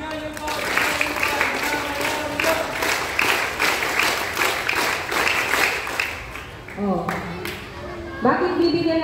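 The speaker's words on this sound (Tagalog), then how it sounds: "Yung iba ang magbibigay sa kanila ng palakpak." Rhythmic group clapping from scouts at a backyard camp, given as a patterned cheer for a patrol, with steady beats that shift pace near the end while voices chant along.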